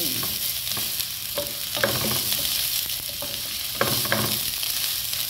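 Ginger browns in a hot pan as the base for a Filipino clam soup, a steady close sizzle with clicks and scrapes from stirring scattered throughout, no voices.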